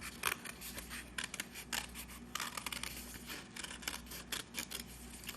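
Scissors snip repeatedly through a cardboard circle for a taco puppet craft, a busy run of crisp close cuts and rustles, no talking.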